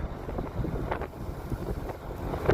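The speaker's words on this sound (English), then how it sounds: "Still a little bit breezy." Breezy wind blowing across open farmland with few crops standing, heard as a continuous low rumbling buffet against the microphone, gusting and swelling loudly at the end.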